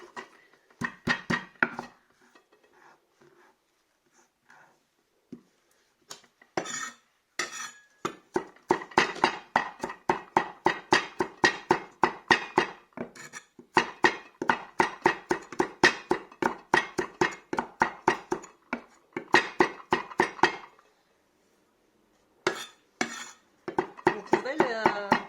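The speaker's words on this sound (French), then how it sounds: "Donc là, je vais écraser un peu les gingembre." Ginger is crushed by hand in a kitchen while grilled sardines are being prepared: a rapid run of sharp knocking strikes, close and fairly loud, in bursts with a few short pauses.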